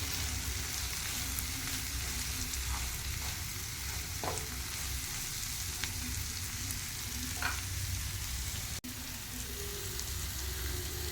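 Mussels are stirred and fried in a pan over a steady, close sizzle, with occasional scraping and clinking of a utensil and a brief sharp knock near the end.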